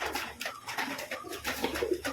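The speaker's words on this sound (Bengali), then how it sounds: "এই যে সব পায়রাগুলো আসছে এবার" Pigeons coo softly in repeated rolling calls as they gather for grain and mustard seed on a rooftop, several birds murmuring close by with no talk.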